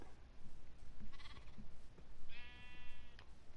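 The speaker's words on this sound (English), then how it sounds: "My sheep." Two clear wavering Minecraft sheep bleats from the video game sound close and loud over steady background hiss, with no talking.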